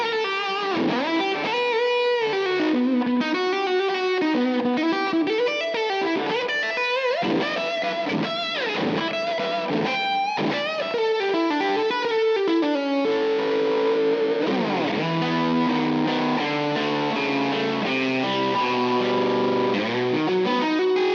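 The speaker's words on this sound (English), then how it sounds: "you can get a really cool fuzz tone from a nice 60s style Jazzmaster." A Fender Japan Jazzmaster electric guitar plays through fuzz, giving a thick, heavily distorted tone with sustained notes and melodic runs, loud and continuous with no talking.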